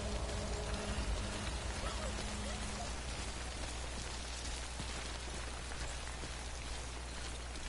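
Steady rain pours down in Death Stranding, a constant broadband wash, loud and close, with a few faint tonal sounds early on and no talking.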